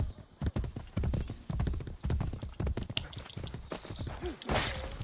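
Galloping horse hooves in Assassin's Creed Brotherhood pound in a fast, irregular rhythm, close and loud, with thuds and a brief whoosh near the end.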